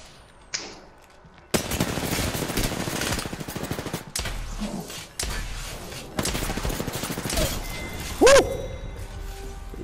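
Rapid bursts of automatic gunfire from an Apex Legends match ring out loud and close, with brief pauses between volleys and a sharp clatter near the end.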